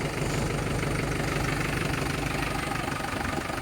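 A Mahindra 475 tractor engine idles steadily close by, a dense even rumble with a fast regular knock, unbroken and without voices.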